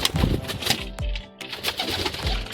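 Fancy pigeons at a loft coo repeatedly in low, throaty bursts close by, with a few brief flutters and rustles between the calls and no talking.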